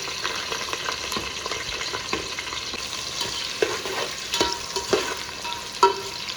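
Onions and green chillies frying in ghee for mutton biryani, a dense steady sizzle with occasional scrapes and clinks of stirring, loud and close with no talk.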